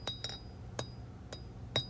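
Sharp metallic hammer strikes on an anvil while forging a steel knife blade, five spaced blows with bright clinking tones over a low background hum.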